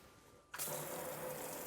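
A Brizio pull-out kitchen faucet sprayer switches on abruptly partway through, then keeps up a steady, close rush of running water into the sink. No one speaks.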